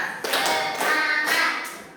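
Classroom of fifth-grade elementary pupils clapping together in a patterned rhythmic cheer, with bursts of fairly loud, close group claps in distinct groups and no talk over them.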